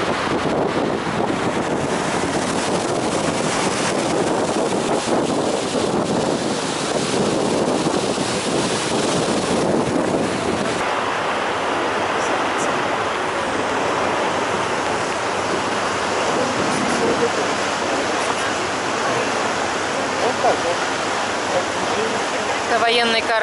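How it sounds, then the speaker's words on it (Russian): A boat cruising on the ocean off San Diego gives a loud, continuous rush of water and wind buffeting across the whole stretch, with no talk. "Шум воды."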